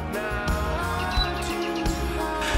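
Birds chirp and tweet along a gently sloping forest walking trail in autumn at a Gapyeong healing park, with bright repeated calls over a soft outdoor background, fairly close and clear.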